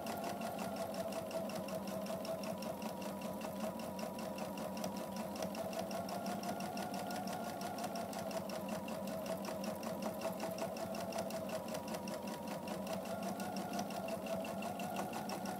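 A sewing machine stitches fabric in a continuous, even mechanical whir with a rapid rhythmic needle chatter, steady and close throughout with no pauses.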